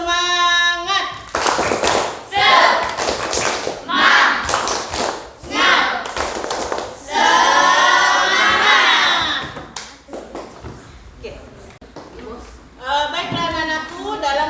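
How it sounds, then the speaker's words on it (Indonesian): Junior high students in a classroom perform a rhythmic spirit clap, with bursts of loud unison clapping in patterned beats, interspersed with shouted chanting from the class and a teacher's voice. "Tepuk semangat."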